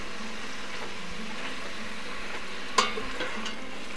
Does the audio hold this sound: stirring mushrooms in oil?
yes